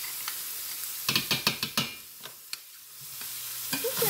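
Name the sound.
tomato paste added to sizzling Cuban picadillo, stirred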